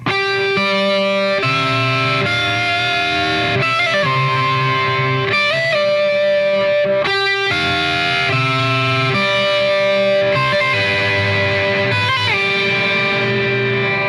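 Distorted electric guitar alternating ringing harmonics with fretted notes in a continuous, sustained phrase with no pauses.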